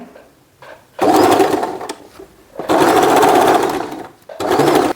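A sewing machine stitches a silk skirt and long blouse in three loud, close bursts of rapid whirring, separated by short pauses with soft handling sounds.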